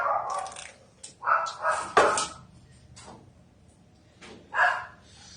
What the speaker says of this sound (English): can you go upstairs and shut the door to the basement so I don't hear barking?